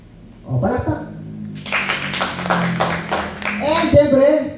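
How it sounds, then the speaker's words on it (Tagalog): An audience breaks into clapping at a motivational mentoring talk, a burst of many hands starting abruptly after a brief spoken phrase and continuing steadily, with a voice speaking over it near the end. "O, palakpak."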